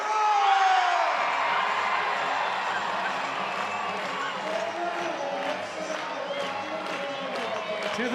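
Full-capacity crowd at Plainsman Park during a Banana Ball baseball game at Auburn University, a broad sustained roar of cheering and whoops with some clapping, steady and distant-sounding, with a voice talking over it.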